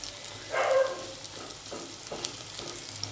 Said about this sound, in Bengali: এইভাবে আমি প্রত্যেকটা ভেজে নেব